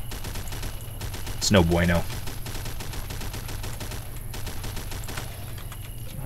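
Rapid automatic gunfire in the top-down zombie shooter Zomborg, a continuous rattling stream of shots running under a brief spoken remark from a player.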